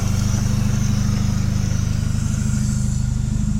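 A supercharged engine of an R53 Mini Cooper S idling steadily close by, with a loud low rumble and a constant high supercharger whine, no talking over it.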